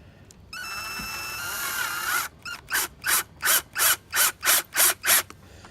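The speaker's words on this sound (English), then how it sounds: "I'm just going to take a simple screw. As you can see, I've already got one started there, and just drill it in there" A power drill drives a simple screw into an outboard motor's oil filter, starting with a steady whirring run and then breaking into about eight evenly spaced, ratcheting bursts, close and fairly loud.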